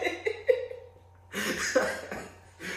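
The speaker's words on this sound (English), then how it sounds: "coughing" Several sharp coughs from a woman, first a quick cluster of three, then after a short pause a longer, harsher burst of coughing and a final cough, close to the microphone.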